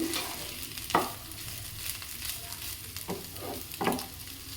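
Ivy gourd fries in a pan, a soft steady sizzle under a few distinct spatula scrapes spaced across the stretch, close and fairly quiet, with no speech.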